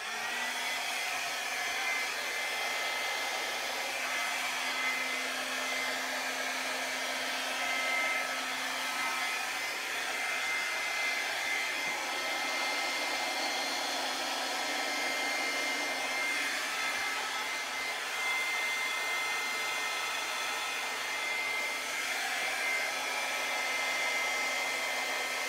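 Hair dryer blowing out freshly coloured hair, a steady loud whooshing roar with a constant motor hum that holds without a break throughout, close up and with no talking.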